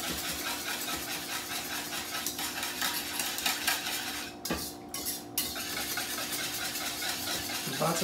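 A spoon scrapes around a pan as sour cream is stirred into gravy, with a steady clinking and scraping rhythm over a low sizzle, close and moderately loud.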